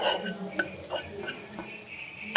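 A spoon stirs flour in a pan for white sauce pasta, soft scraping and light clinks against the pan over about two seconds, close and moderately quiet.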